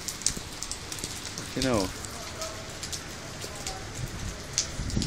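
Heavy rain pours down during a flood in Modbury, a dense, steady hiss of drops striking surfaces close by, while a man briefly swears over it.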